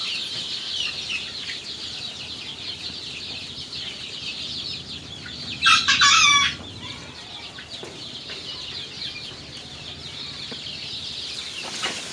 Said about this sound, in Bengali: দেখেন মুরগির বাচ্চা কাটা